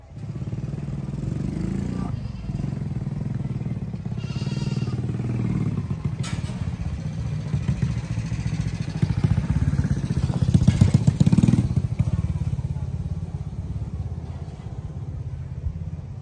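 A motorcycle engine runs steadily and close, a low rumbling drone with some clatter that swells and roughens briefly near the middle before settling; a few voices are faintly mixed in.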